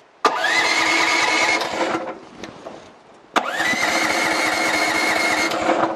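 A Mygale 500 mini excavator engine cranks and catches, runs briefly, falters into a quiet lull, then starts again and settles into a loud, steady rattling run close by.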